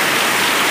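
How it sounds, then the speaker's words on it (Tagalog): Steady rain pours down as a dense, even hiss with no pauses, close and fairly loud, and no voices heard. "Kainis. Wala nang tigil ang ulan."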